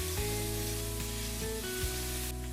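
Chopped tomato sizzling in a pan of spices as it is stirred, a steady, dense hiss with a faint hum running underneath throughout.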